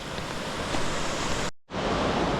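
A river near Kutelka in Sliven, Bulgaria, swollen and overflowing after rains, rushes in a steady broadband roar, close and loud, with a brief dropout before the flow resumes.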